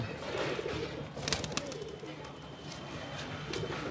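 Madrasi pigeons coo softly and steadily close by, with scattered light rustles and faint wing or handling sounds mixed in.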